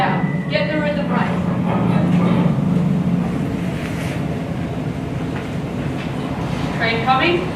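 A train passing nearby, a loud steady rumble and rolling roar filling the whole stretch, with voices talking faintly underneath at the start and end.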